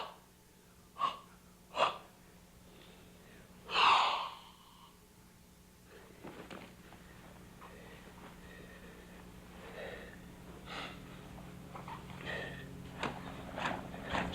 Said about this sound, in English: stretching with coordinated breathing, like an animal awakening from a deep sleep